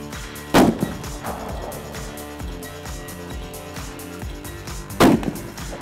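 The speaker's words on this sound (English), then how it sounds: "So I'm going to keep shooting." Rifle fired at a range target during practice before a Shiras moose hunt in Utah, two sharp loud shots several seconds apart with a low rumbling background between them.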